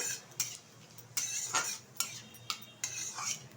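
Bay leaf, two dried red chillies and whole cumin seeds tossed into hot oil in a pan, with a few close, sharp utensil scrapes and clinks recurring in a loose rhythm over a low, soft sizzle.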